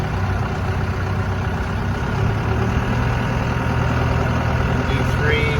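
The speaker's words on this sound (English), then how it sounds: "We're going to bring the engine speed up to medium." A wheel loader engine being brought up to medium speed during installation and calibration of a Walz LS 300 system, a steady loud diesel drone that holds fairly even and rises slightly partway through.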